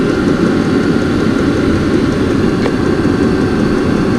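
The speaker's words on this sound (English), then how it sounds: "It's a weird little pump." A Vevor diesel heater runs with a steady, loud mechanical drone and hum from its small pump, unchanging throughout and heard alone without talking.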